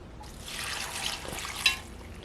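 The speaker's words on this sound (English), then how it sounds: "I'm just going to add some water in because I figure we'll like cook it." Water pours into a hot pot holding escarole and beans, a brief, soft, hissing trickle that swells and fades within a couple of seconds.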